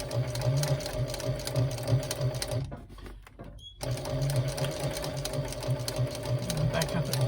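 A domestic sewing machine stitches a fabric handbag in steady, continuous whirring runs, pausing briefly in the middle before starting again; a voice speaks over the machine noise.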